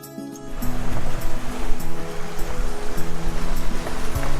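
A small sailboat is towed through the tidal waters of French Pass near slack water, with loud, continuous rushing water and a steady motor drone throughout.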